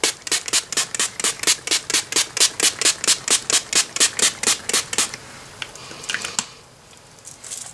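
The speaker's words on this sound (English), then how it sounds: "So we're going to go on and spray the whole face." A rapid series of short, crisp spray bursts repeats steadily for about five seconds, close up, followed by a few softer spritzes and quiet.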